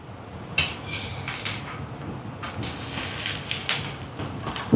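A potato rotti is flipped in a pan, giving a few scraping, rattling clatters against the metal between quieter gaps, close and fairly crisp with no voices.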